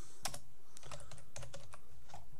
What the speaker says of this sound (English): you want to type in dim num as double.